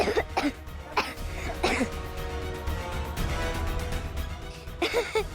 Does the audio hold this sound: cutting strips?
no